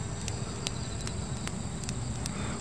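A giant hornet chews at an insect net, giving sharp, scattered clicking ticks at an irregular rhythm over a steady rustling hiss. The sound is close but faint.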